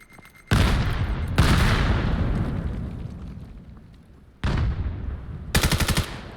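Gunfire in a competitive 5v5 video game match is sprayed into smoke: loud automatic bursts and heavy blasts with long ringing decays, then a rapid rattling burst at the end, with no voices.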